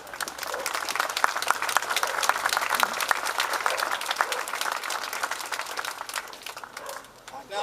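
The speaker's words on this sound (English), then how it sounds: "And I think they deserve a round of applause." Sustained crowd applause at an outdoor jubilee event in Henley-in-Arden, dense clapping that holds steady for several seconds before easing slightly near the end.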